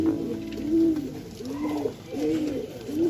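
Racer pigeons cooing nearby in soft, repeated throaty rolls with short pauses between calls over a low background hum.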